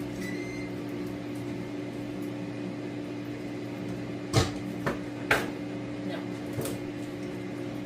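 An air fryer running during cooking, a steady mechanical hum with a constant fan drone, joined midway by a few sharp clicks and knocks, close and moderately quiet.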